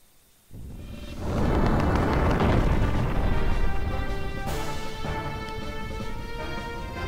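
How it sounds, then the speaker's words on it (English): Explosions rock a village under attack by giant robots in the game Xenogears, a sudden loud boom followed by sustained rumbling blasts and crashing that stay heavy throughout. "Explosions!"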